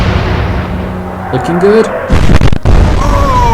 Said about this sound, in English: A great salvo on the waterline, set a fire.